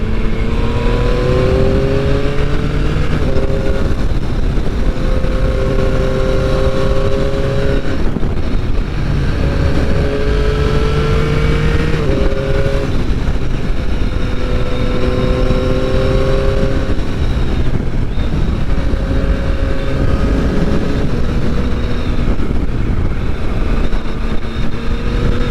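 A 2021 Yamaha MT-09 SP motorcycle on the road, its engine droning loud and close throughout, rising and falling in pitch through repeated gear changes and throttle swells over steady wind rush.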